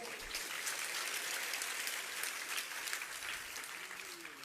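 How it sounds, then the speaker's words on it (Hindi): Steady applause from an audience at a Jain religious sermon, continuous dense clapping that holds for several seconds at moderate level. "हम इन तालियों को सुनते नहीं हैं"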